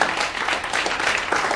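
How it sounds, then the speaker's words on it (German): A crowd applauds at an outdoor vigil with a brief, steady burst of clapping heard at moderate distance. "Und das ist ein ganz cooler Applaus hier."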